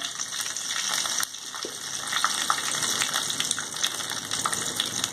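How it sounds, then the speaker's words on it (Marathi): Mustard seeds and cumin crackle and pop sharply in hot oil for tempering, a dense, steady sizzle with scattered snaps throughout. "जिरे घातले चांगली मोहरी तडतडून द्यायची छान"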